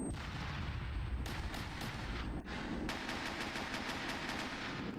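Heavy combat in SOCOM II, with dense gunfire and sharp blasts in a steady barrage, bursts of rapid shots standing out above a constant roar, fitting grenade explosions amid the fight.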